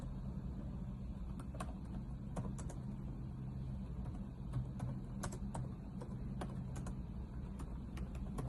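Keys are tapped on a computer keyboard in an irregular run of clicks, alone over a steady low room hum with no talking.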